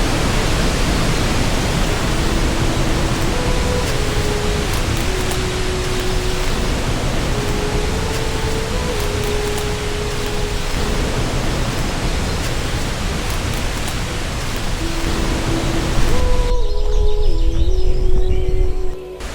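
Langga Duae waterfall in East Kalimantan pours with a loud, unbroken broadband roar of falling water, steady throughout, with faint bird calls threading through it.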